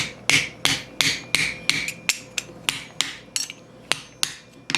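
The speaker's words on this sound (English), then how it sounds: "Just hammer it over the open space." Sharp, ringing hammer blows on a steel thumb plate for a Milanese mitten gauntlet, shaped over a small swage block, about a dozen strikes in an uneven rhythm, close and fairly loud with no talk.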